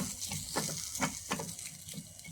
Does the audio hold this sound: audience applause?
no